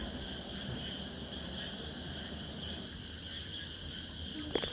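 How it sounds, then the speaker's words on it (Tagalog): Crickets and other insects chirp steadily at night in Benguet, a continuous high buzzing trill carried on alone without talk, with a faint brief knock near the end. "Tapos yung mga naririnig lang natin dito is yung mga kuliglig, kulisap, yun yung mga yan."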